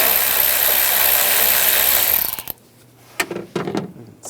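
A ratchet with an 8mm socket loosens a worm clamp on a Ram 1500 air intake, giving a dense, rapid clicking whir up close for about two seconds, then a few separate clanks and handling knocks.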